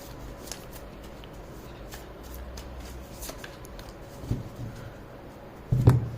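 Tarot cards shuffled by hand, soft papery riffling and slides in quiet bursts with a couple of louder card taps near the end, no speech.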